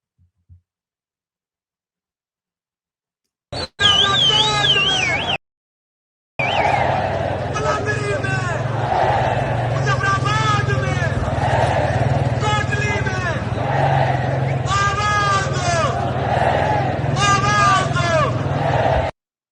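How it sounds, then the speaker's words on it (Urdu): A large crowd chants slogans in loud rhythmic unison at a Kashmiri protest in Rawalakot, voices rising and falling in steady repeated bursts over constant crowd murmur, after a brief silence and a short cut near the start. "تو یہ نعرے وہاں پہ لگ رہے ہیں۔"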